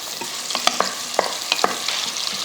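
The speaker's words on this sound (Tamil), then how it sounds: "வெங்காயம் நம்ம எப்பயும் சொல்கிறது தான் நல்லா வதங்கி வரட்டும்" Onions and green chillies sautéing in a pan while being stirred, with a steady sizzle and several sharp clinks of a spoon against the pan at irregular moments.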